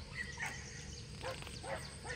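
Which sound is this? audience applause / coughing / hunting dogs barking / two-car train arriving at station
hunting dogs barking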